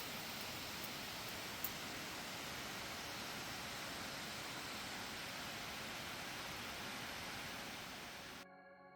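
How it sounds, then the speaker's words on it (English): A small waterfall below a little dam in the Adirondacks gives a steady, broadband rushing roar that stays constant and close, with no voices, cutting off abruptly near the end. "Here's a little dam with a beautiful little waterfall below it"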